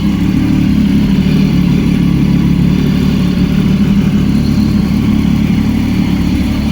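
A motorcycle engine idles steadily just after a cold start, a loud, constant low rumble held close and unbroken throughout.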